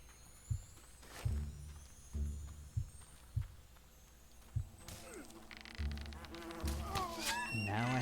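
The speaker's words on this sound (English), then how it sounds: "somebody's been feeding these wasps steroids" Wasps in the video game Fable, a faint insect buzz under sparse thumping impacts and game sounds, with a rising whirring tone toward the end.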